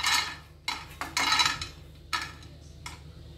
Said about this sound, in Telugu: ముందుగా స్టవ్ వెలిగించుకొని ప్యాన్ పెట్టుకొని ఈ పల్లీలు వేసుకుందాము.